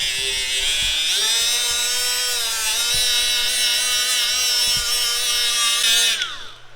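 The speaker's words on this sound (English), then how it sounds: "I'm going to drill the holes in the other one" An electric drill whines steadily at high speed while boring holes into a steel well auger, with a few knocks of handling, before the motor spins down at the end.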